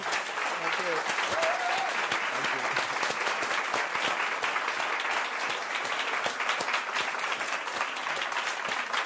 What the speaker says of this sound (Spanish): yo os pediría un fuerte aplauso para para Giovanni